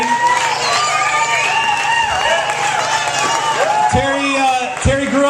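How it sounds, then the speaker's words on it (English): Audience applause and cheering greet a sailing panel guest, the reigning Rolex Yachtsman of the Year, at a junior sailing event in Annapolis. Steady crowd noise and shouts continue throughout, with a voice rising above near the end. "Let's have a round of applause for Terry."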